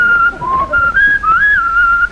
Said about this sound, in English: when I whistles the ride of the Valkyrie